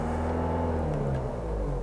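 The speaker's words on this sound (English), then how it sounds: "You can add acceleration, you can add gas to increase the revs" A manual-transmission car engine held near idle while gas is added to raise the revs, a close, steady low hum with a slight drop in pitch over under two seconds.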